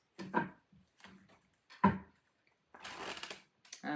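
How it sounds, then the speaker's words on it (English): Tarot cards riffle and slap together in a few short bursts, close and soft, ending with a longer fluttering shuffle. "let me get you a couple more shuffles"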